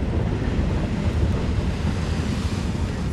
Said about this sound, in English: Oh, there's a big wave coming now.